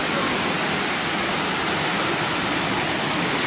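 Rushing water of Somtirth waterfall near Nivendi in Ratnagiri, a steady dense roar filling the whole clip without pause, close and loud, with no voices.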